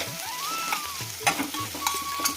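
Chicken coated in chilli powder sizzles steadily in a hot pan while a spoon scrapes and stirs through it, with a few brief clinks against the metal and no voices.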